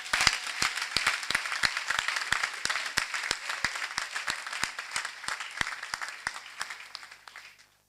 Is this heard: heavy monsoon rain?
no